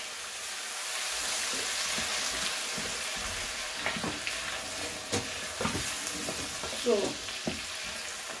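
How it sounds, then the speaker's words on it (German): Rice frying in butter in a pan with a steady crackling sizzle throughout, broken by occasional louder scrapes of stirring toward the end; a voice speaks briefly at the start. "das braten wir jetzt ein bisschen an. Wir Türken braten unseren Reis immer ein bisschen an."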